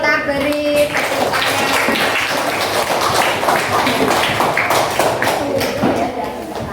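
An audience claps after a group presentation, steady dense applause filling the room for several seconds, with a voice talking over it.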